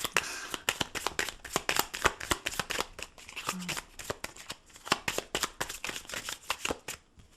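A deck of tarot cards is shuffled by hand, giving a steady run of crisp riffling snaps and slaps, close and clear, with no talk over it.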